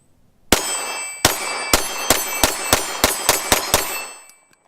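A Glock 17 pistol fired rapidly, ten sharp, loud shots with ringing echoes. The first few come at a slower pace and the rest follow in a quick string before the sound fades.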